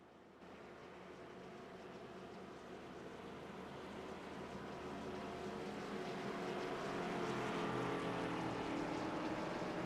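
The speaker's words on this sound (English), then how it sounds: "You should be hearing a little more of those race car engines." Distant race car engines at Darlington during a NORA B Series 125 race, a steady blended drone that slowly swells louder over the clip, with no voices.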